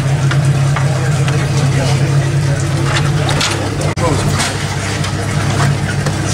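An old boat engine fires up and settles into a steady, loud idle with a low, even hum and broadband rumble that runs throughout, dipping briefly once midway.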